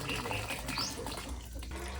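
Water runs and splashes steadily as yellow dye is dissolved for papermaking, a continuous close trickling like a tap.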